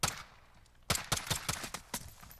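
Guns firing from the hip in Modern Warfare during a one-on-one match between an underbarrel shotgun and an M19 pistol, a string of sharp close shots in an uneven rhythm after a single opening blast.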